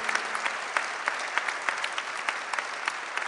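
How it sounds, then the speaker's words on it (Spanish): An audience at a congress applauds steadily for the organisers of the event, with dense overlapping claps from many people and a few sharper individual claps standing out. "Quiero que aplaudamos todos a Lali y a todos los que organizaron este hermoso evento"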